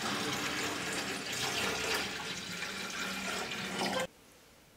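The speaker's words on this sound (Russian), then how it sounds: "Сейчас доливаю воду в систему отопления." Steady rushing water pouring into a home heating system as it is topped up, a continuous loud hiss for about four seconds that cuts off abruptly, leaving near silence.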